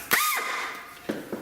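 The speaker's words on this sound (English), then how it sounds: "got a big drill bit, so that way it can make the small little dimple pilot hole" A drill with a large bit bores a small dimple pilot hole into a metal power steering pump and alternator bracket during a V8 Crossfire build. A sharp burst, a brief whirring run, then two shorter bursts follow, close by and alone.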